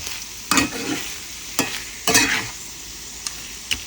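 Lightly fried peanuts are stirred into a snack mix in a pan, giving a soft background sizzle and about five louder scraping strokes at irregular intervals, close by and with no voices.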